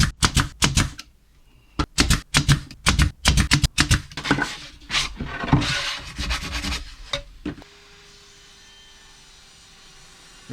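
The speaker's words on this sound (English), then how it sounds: "Just using exterior wood glue and some thin nails in the nail gun." Nail gun drives thin nails into exterior wood for a VW camper planter, firing rapid sharp clacks in quick irregular bursts, loud and close, then falling to a faint hum.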